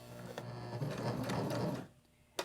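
Sewing machine back stitching fabric for a pocket fidget, a brief close whirring run of stitches that stops abruptly, followed by a sharp click.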